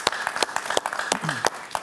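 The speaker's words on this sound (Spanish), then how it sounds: "Un aplauso para él, por favor." A brief burst of studio audience clapping on a Spanish-language talk show, individual claps fairly distinct and rhythmic, faint and short, with a voice briefly audible underneath.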